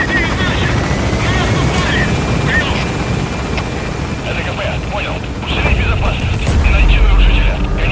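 Helicopter lifting off in the Metal Gear Solid V: The Phantom Pain video game, a loud, close, continuous rotor roar that swells near the end, with voices talking over it.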